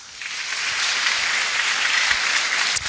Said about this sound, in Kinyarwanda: Mwiha amashyi rwose